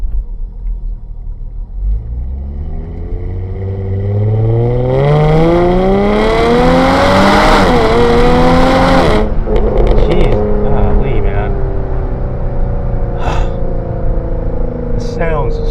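A tuned, stage 4 Jaguar F-Type V6 sports car engine revs up with a deep rumble climbing in pitch, holds a loud roar, then eases off to a steady idle nearby.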